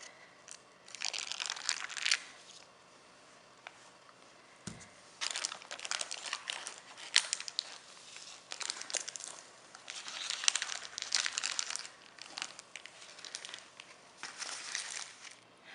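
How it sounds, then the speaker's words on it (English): Parchment paper peeled from the bottom of a pressure-cooker cheesecake: close, crinkling, tearing rustles in several bursts separated by quiet pauses, with one dull knock early on. "Let me take the parchment paper from the bottom first."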